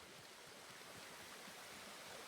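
Steady rushing water of a waterfall in the video game Ghost of Tsushima, a continuous broadband wash that runs unchanged through the moment with no voices over it.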